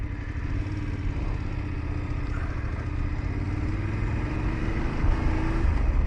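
Voge DSX motorcycle engine running steadily under load, a continuous mid-pitched drone that climbs through revs with a quick-shifter gear change, swelling slightly louder near the end, close and without speech.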